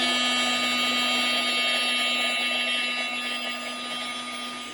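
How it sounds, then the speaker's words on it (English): A Ryobi cordless heat gun runs steadily with a continuous fan whine and high-pitched tonal hum, close and fairly loud, fading slightly toward the end; no talking. "heat gun."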